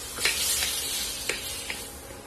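Paneer cubes frying in hot oil: a steady sizzle with a few sharp crackles and stirring scrapes, close and moderately loud.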